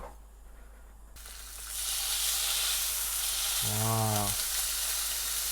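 Oil sizzling and hissing in a hot pan before bulgogi beef is added, a broad steady frying hiss swelling up and holding, with a short spoken exclamation near the end.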